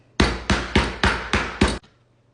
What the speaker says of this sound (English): I finally got a meat hammer